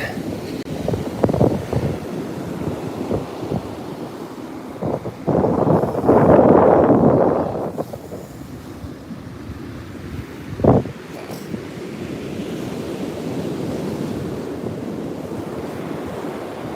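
Ocean waves breaking on a beach with gusty wind buffeting the microphone, surges of surf rising and fading, one loud crash midway, and a steady windy rush throughout.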